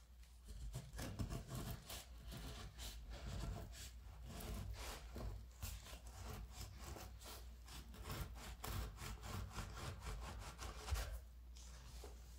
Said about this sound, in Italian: pronta per affettare la mega pagnottona qui